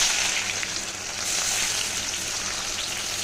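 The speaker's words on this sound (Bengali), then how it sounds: "দিয়ে দিচ্ছি পেঁয়াজ কুচি" Chopped onions fry in hot mustard oil in a kadai, a steady, even sizzle like light rain that holds at moderate loudness throughout. No voices.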